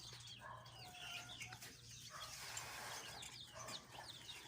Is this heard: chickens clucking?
yes